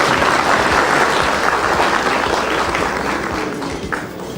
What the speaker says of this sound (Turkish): Alkışlarınızı rica ederim